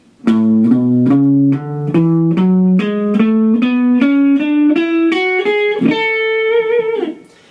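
A guitar plays a scale slowly, one plucked note at a time at an even pace, climbing steadily upward and ringing clearly with no other sounds.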